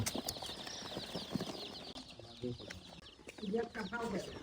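Farm chickens clucking in short irregular bursts, with some louder cackles near the end, mixed with background voices and rustling movement around a poultry yard at feeding time.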